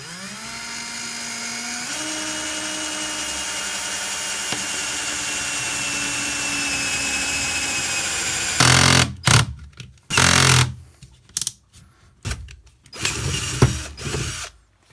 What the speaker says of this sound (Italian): Ok, riesce a forare perfettamente.